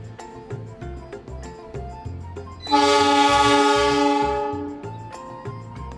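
A Taksaka passenger train sounds a loud, sustained horn for about two seconds, close by and rising over a steady rumble of rolling wagons and repeated rhythmic clacks on the rails.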